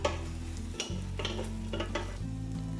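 Beaten egg sizzles in an oiled frying pan while a Japanese rolled omelette is cooked, with steady frying hiss and a low hum under light scraping and stirring taps from a utensil.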